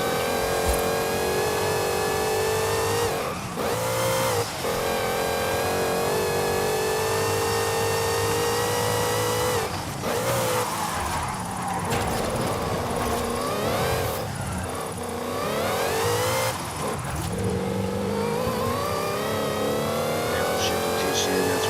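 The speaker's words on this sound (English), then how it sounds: "Downshifting too soon, that's what happened now." A car engine in Forza Horizon 5 revs hard and loud, with several sharp downshifts and rising pitch sweeps during free-roam driving, while someone talks over it.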